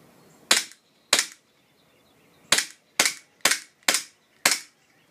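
KWA ATP airsoft pistol fires seven sharp, loud cracks outdoors on a field, two spaced shots then a quick rapid string of five, each with a brief decaying tail and no talking.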